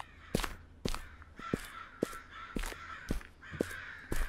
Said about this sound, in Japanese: カラスがすごい飛んでんだな、上。